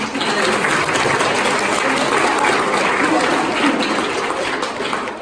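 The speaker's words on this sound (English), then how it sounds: "So can we give her a clap?" An audience at a graduation ceremony in the Yale Peabody Museum of Natural History applauds in a dense, continuous wash of many hands, loud and sustained for several seconds before tapering at the end.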